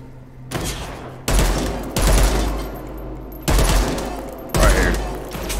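Loud, rapid bursts of automatic gunfire in a zombie shooter video game, several sustained fusillades separated by short gaps, close and dominant.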